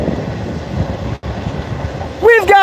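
A train rumbles past with a steady broadband roar and clattering wheels, loud and close, briefly dropping out mid-pass; a voice starts talking near the end.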